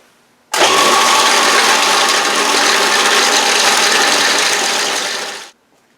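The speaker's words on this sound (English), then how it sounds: "put them inside the box, put the lid on, turn the sander on" Small wooden blocks tumbling inside a lidded box on a running power sander: a loud, dense continuous rattle that starts abruptly, holds steady for about five seconds, then fades out as the sander stops.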